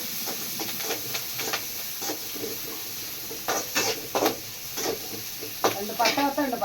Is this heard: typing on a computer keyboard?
no